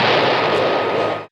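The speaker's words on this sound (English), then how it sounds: "the ghost of Juan Carlos to be blasting his cannon repeatedly at all hours of the day and night" A single cartoon cannon blast from a Scooby-Doo episode: one loud, booming burst that rumbles briefly and cuts off abruptly.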